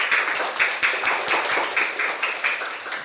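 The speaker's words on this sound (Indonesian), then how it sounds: "Tepuk tangan dulu dong buat temennya yang" Clapping from a classroom of students applauding a group that has just presented its discussion results, a steady patter of many hands at moderate loudness with no talk over it.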